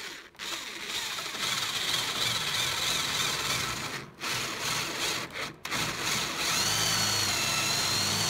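A power drill fitted with large bits bores a lock hole into a wooden door, giving a continuous grinding, rasping whir with a few brief pauses as the bit catches and restarts.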